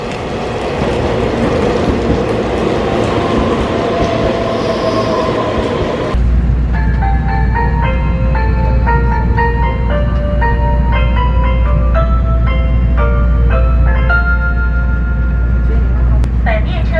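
A Taiwan EMU3000 express train rumbles into a station, its loud, steady running noise giving way midway to bright tonal music-like sounds over a continuing low drone.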